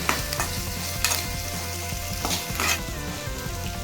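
Onions and tomatoes saute in a pan with a little salt for a drumstick thokku. A close, continuous sizzle runs throughout, broken by a few sharp scraping stirs.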